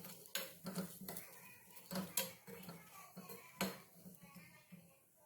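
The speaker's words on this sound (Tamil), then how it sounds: "இப்போ இந்த எள்ளு லைட்டாக பொரியிற வரைக்கும் இதை வறுத்துக்கலாம்." Sesame seeds and dried chillies roast in a pan, making quiet, irregular clinks, taps and scraping stirs close by, with no talk.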